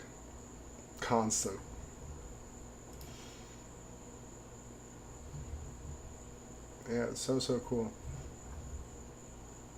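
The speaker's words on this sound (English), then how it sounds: "You hear the crickets outside, and yeah, there are crickets just like" A steady, high-pitched chirring of crickets outdoors on a June night runs continuously in the background, with brief speech passing over it twice.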